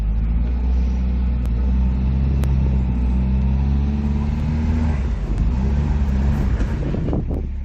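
A Nissan Figaro engine with seized rear brakes runs in a steady, loud, close rumble with a faint whine, rising slightly as it revs toward the end.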